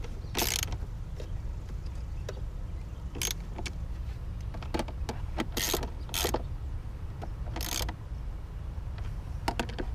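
Ratchet clicks from a 10 mm socket snugging bolts on a Subaru SVX engine bay, coming as short sharp bursts of clicking spread irregularly over a steady low background hum, close and moderately loud.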